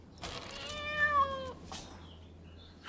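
A domestic cat meows once with a drawn-out, wavering call near the microphone, set against a steady low hum and quiet background.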